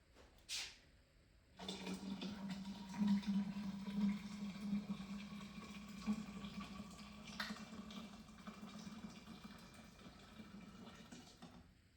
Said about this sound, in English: I'm going to fill this vat up with boiling water